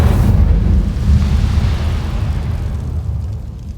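A fire spell cast in a Harry Potter video game lands as a loud, deep burst of fiery rumble, fading steadily over a few seconds with no voice over it.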